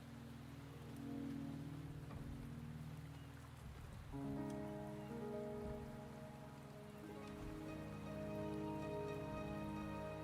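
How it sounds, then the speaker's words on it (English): Steady rain in the video game Wuthering Waves, a soft continuous patter that persists throughout beneath layered music tones. "The rain is subsiding, and the sky will soon clear."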